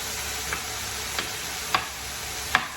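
Okra cooks in a pan with butter and garlic: a continuous low sizzle broken by four light, evenly spaced taps of a utensil against the pan.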